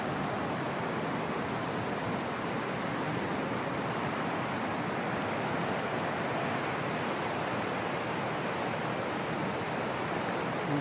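Steady, loud wind buffeting a microphone outdoors near an eroded palm plantation, a constant broadband roar with no pauses or voices.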